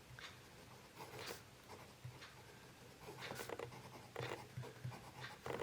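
A fountain pen nib, a Pilot Explorer or Wing Sung 3013, scratching across paper in short strokes and pauses, quiet and close with faint scratchy feedback and no talking.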